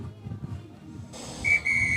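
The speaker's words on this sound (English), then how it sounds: "he's blowing his whistle." At a Heartland Championship rugby match between North Otago and King Country, the referee blows a sharp, shrill whistle blast, a loud piercing tone lasting under a second, after low crowd and ground noise.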